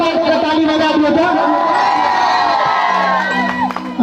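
Loud crowd at a village stage show in rural Bihar, shouting and cheering continuously with excited voices and whoops, a dense wall of noise throughout, thinning slightly near the end.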